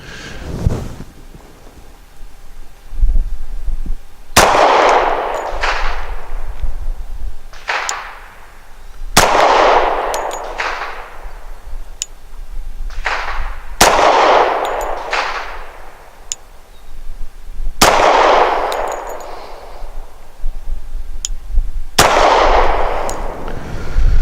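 A Rock Island 1911 Ultra CCO pistol with a bull barrel and full-length guide rod fires AMSCS 230 grain full metal jacket rounds as six loud, sharp shots, each followed by a ringing decay, spaced unevenly a few seconds apart.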